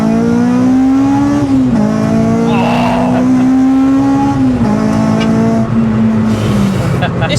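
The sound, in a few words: naturally aspirated Honda Civic track car accelerating, changing gear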